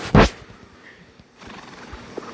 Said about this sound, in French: Je vais prendre ce cheval là.